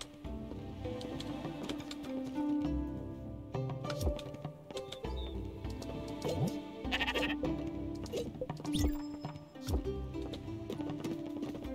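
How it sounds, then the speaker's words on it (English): Sheep in the video game Spiritfarer bleat repeatedly, several wavering cries at irregular intervals over soft game music and chirpy effects, moderately close. "Can I bring your sheep to you?"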